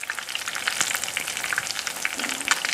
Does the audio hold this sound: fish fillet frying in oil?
yes